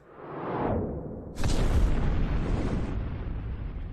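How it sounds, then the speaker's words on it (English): A bomb-drop sound effect: a falling whoosh rises, then a sudden loud, deep explosion bursts and rumbles on heavily for a couple of seconds, with no talking. "dropped a bomb over here."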